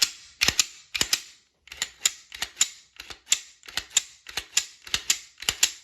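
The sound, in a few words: Glock pistol slide sliding back onto frame rails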